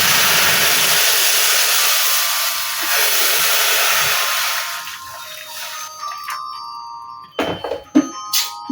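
Hot water poured onto fried dried lotia fish in a pan makes a loud, steady hissing sizzle for about five seconds, then dies down to quieter bubbling and a few sharp clinks near the end. No one speaks.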